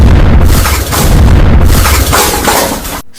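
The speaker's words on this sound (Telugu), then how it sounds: "కుక్కరు బాంబు వేలినట్టే వేలింది పో" A pressure cooker of dal bursting like a bomb: a loud, booming blast with crashing, rumbling noise that lasts about three seconds and then cuts off abruptly to silence.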